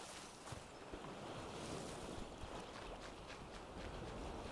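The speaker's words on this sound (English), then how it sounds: "Alright, it's a windy day." Strong wind buffets the microphone in a constant roaring rush, loud and steady throughout with gusty fluctuations.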